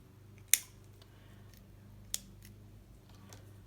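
Two crisp scissor snips cutting rolled paper for a loop on a paper tote bag craft, separated by about a second and a half, close and distinct over quiet room noise.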